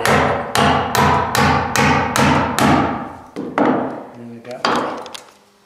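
Sharp metal hammer strikes ring out in a steady rhythm, driving nails into timber loft flooring with a concrete spike used as a nail set: about seven even blows, then a few slower, uneven taps near the end.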